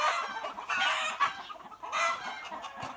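Chooks and roosters squawk and cluck in a continuous, agitated chorus, several birds calling over one another at close range with rising bursts of noise.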